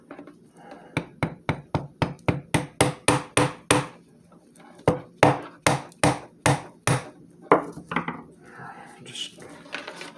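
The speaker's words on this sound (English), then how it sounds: "if you have a small hammer," Small hammer tapping a Wizard box fan's plastic housing apart, a fast run of about fifteen sharp knocks, then a pause and a second burst of taps, close and loud with some quiet talk.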